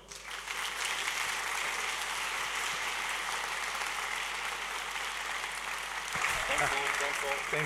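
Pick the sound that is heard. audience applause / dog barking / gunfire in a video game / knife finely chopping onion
audience applause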